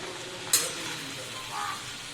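A soft, steady sizzle of garlic and chili in oil, with a brief metallic clink near the start.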